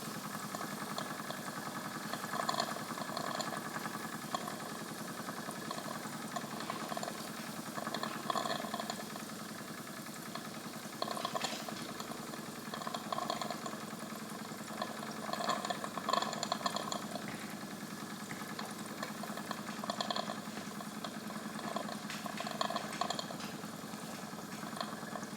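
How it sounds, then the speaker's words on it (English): A Wilesco D20 toy steam engine runs steadily at moderate speed, giving a soft continuous hiss and faint gurgling with a gentle mechanical churn, quiet and even throughout with no talking. "I very much like to run the engine at about this speed"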